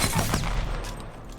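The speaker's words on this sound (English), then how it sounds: "You just got a really good feel for its fire rate." Rapid automatic weapon fire in the video game Apex Legends, a dense burst of shots running continuously for over a second, loud and close with no voices.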